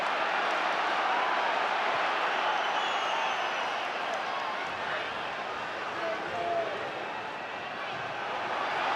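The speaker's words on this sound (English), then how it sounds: "it's the crowd. They're urging the team forward" Steady crowd murmur from a League One football match between Coventry and Gillingham, a broad continuous roar of supporters urging the home side forward, with commentary voices over it.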